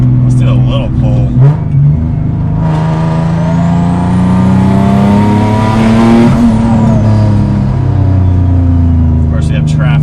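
A single-turbo Nissan 370Z accelerates hard from inside the cabin, its engine droning and climbing steadily through a long pull, with a rising whine peaking midway before dropping, loud and continuous throughout.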